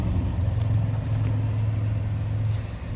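A 2018 GMC Sierra 1500 Denali 4x4 pickup idles smoothly with a steady, low, even engine hum, close and continuous, with no talking.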